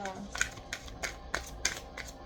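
Tarot cards being shuffled: several soft, brisk riffling bursts in a quiet room, spaced about every third of a second apart, fairly faint with no talking.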